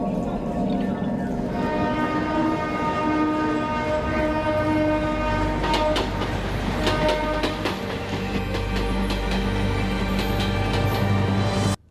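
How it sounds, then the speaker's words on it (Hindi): A train passes near a railway crossing with its horn blowing in long sustained blasts, while the rumble and rattle of the rail cars builds up close and loud underneath. "ट्रेन चालू हो जाएगी"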